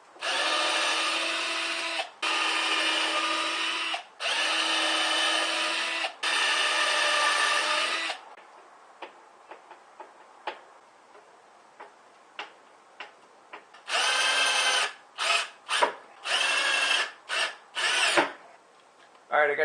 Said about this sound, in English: I got the corners drilled now and screwed in, so now we can really fire through this fast